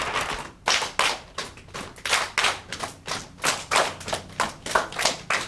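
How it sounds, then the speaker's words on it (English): Children clap and pat along in a steady repeating pat-pat-clap rhythm, sharp hand claps alternating with softer lap pats, close and lively with a slightly uneven ensemble. "Go ahead and give me a pat, pat, clap."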